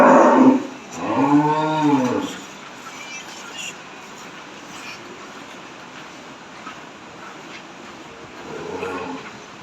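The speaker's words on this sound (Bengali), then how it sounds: "এই যে দেখেন কত গাভী গরুর শেড" Cows in a dairy shed holding about one hundred fifty milking cows give two loud, close moos in the first couple of seconds, followed by quieter shed ambience and a fainter low call near the end.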